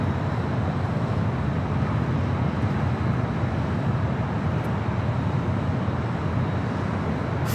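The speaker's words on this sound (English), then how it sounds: "Singapore 777 up next for arrival." A Singapore Airlines Boeing 777 arrives at LAX, a broad steady jet roar that stays loud and even throughout, with no talk over it.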